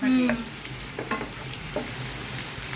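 Ingredients browning in a hot pan for a simple homemade ramen, a steady close sizzle with a few scraping stirs, briefly topped by a squeaky tone at the start.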